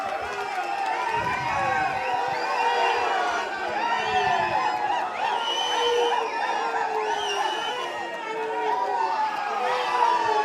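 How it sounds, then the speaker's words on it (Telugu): A large crowd at a party-joining event for a politician claps and cheers in welcome. The lively, continuous noise of applause, shouts and chatter carries through the whole stretch at moderate loudness, with voices calling out across the room. "ఆరూరి రమేష్ పెద్ద ఎత్తున చప్పట్లతో స్వాగతం"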